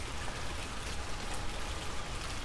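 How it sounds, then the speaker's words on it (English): Rain falling on and around a golf cart, a dense, steady hiss of drops close by with no break or talk. "It's enjoyable, pleasant, listening to the rain."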